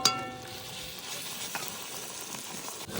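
Ginger and garlic paste sizzles and fries in a pan, a steady close crackle with a sharp burst at the start as it hits the hot oil.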